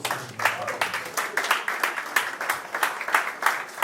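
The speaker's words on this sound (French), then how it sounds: "Est-ce qu'on peut applaudir très fort?" An audience at a French press conference claps loudly in a quick, pulsing, roughly rhythmic pattern of repeated bursts for about four seconds, with no voices rising above it.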